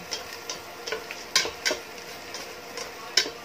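Garlic sautéing in a pan while chicken kinamatisan is being cooked: a soft, constant sizzle broken by irregular scraping stirs and light utensil clicks against the pan.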